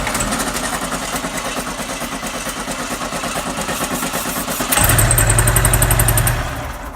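An old VW Sunbug engine, sitting unused for 30 years and primed with carb cleaner, cranks steadily and then catches, bursting into a louder, rough, close running idle near the end.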